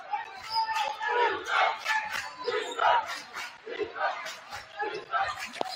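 Home fans at a boys high school basketball semifinal, Pequannock at Cresskill, chant defense in a gym, loud rhythmic bursts of massed voices rising and falling in a repeating pulse.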